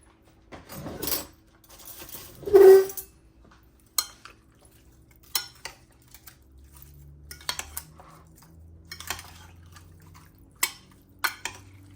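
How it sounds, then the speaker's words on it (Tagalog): A spoon stirs chicken adobo sa gata with crushed bay leaves in a cooking pot, giving scattered clinks and scrapes against the metal, a louder rattling burst early on, then intermittent taps alone with no talking. "Haluin lang natin guys. Para maano sila, mapantay."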